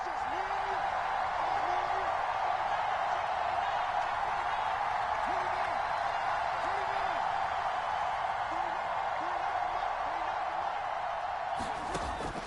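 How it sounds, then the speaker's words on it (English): A steady, dense crowd roar fills a stadium in the Madden football video game ahead of a big third down, holding constant throughout with faint commentary voices beneath it. "the crowd getting into it as we come up on a big 3rd down"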